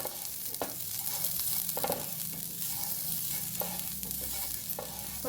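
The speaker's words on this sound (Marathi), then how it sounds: "तवा तापत ठेवला आहे गॅस मधला चेअर करून कांद्याला तेल लावून घ्यायचं तव्यावरती" Steady oily sizzling as an oiled onion is rubbed in soft scraping strokes across a hot dosa griddle, repeating every second or so; close and fairly quiet, no voices.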